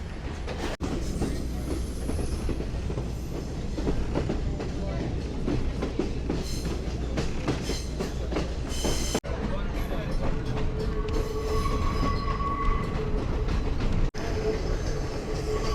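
A train rolls past on rails near Ella, Sri Lanka, with a steady, loud rumble of wagons and wheels close by and occasional high squeals from the wheels over the whole stretch.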